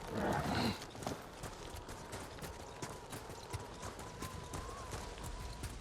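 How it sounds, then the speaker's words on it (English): Horses gallop across open ground in the video game Ghost of Tsushima, a steady patter of hoofbeats running under wind and ambient game noise, with a louder burst at the start and no speech. "How convenient that we have horses now."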